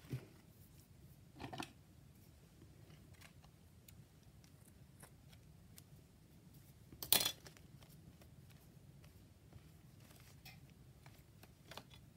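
Scissors trim paper for an autumn art journal in a quiet room, giving a few faint, sparse snips and small clicks, with one sharper cut standing out midway.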